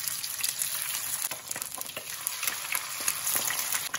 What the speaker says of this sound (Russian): Рыбку кладем на сковородку от себя.